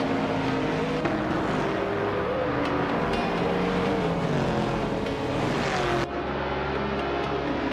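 Race cars circling a superspeedway in a video game: a continuous loud engine roar with rising and falling pitches as cars pass, dense overlapping whines that cut abruptly near the end, with no talking.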